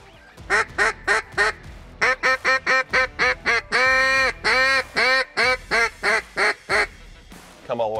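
Loud, close quacking from a Zink Calls Powerhand PH2 duck call: bursts of rapid, evenly spaced quacks, a long sustained hail note, then another descending series of quacks, with a brief voice at the very end.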